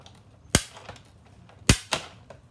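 Watercolored Easter egg paper pieces for card making being cut out, with three sharp, close snips spaced irregularly, the last two coming in quick succession.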